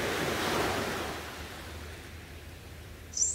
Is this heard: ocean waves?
yes